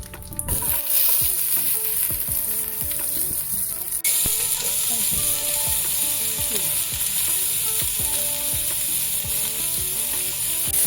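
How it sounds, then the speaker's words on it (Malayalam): Garlic frying in a pan for tomato rice, a continuous close sizzle with scraping stirs and clicking utensil strokes throughout, the hiss growing brighter partway through. "ഇനി നമുക്ക് കുറച്ച് വെളുത്തുള്ളി ഇട്ട് കൊടുക്കാം"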